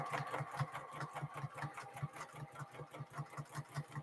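Straight-stitch Juki QL 2000 sewing machine stitching a quilted tote bag, a steady rapid needle rhythm running continuously at close range with no talk.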